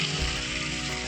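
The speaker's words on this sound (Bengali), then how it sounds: "এবার মশলাটাকে ভালো করে ভেজে নেব।" Spices and potatoes frying in a pan, a brief, steady, fairly quiet sizzle heard alone.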